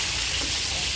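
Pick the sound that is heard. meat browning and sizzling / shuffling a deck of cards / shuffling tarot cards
meat browning and sizzling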